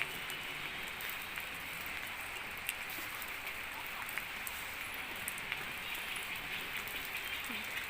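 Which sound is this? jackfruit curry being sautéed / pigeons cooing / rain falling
rain falling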